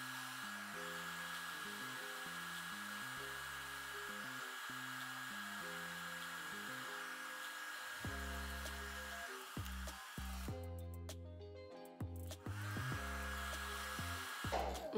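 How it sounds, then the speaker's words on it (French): A hair dryer blows steadily on a lace frontal wig, its whine holding constant while musical tones play throughout; no speech. "Je vais augmenter vite fait la température du sèche-cheveux."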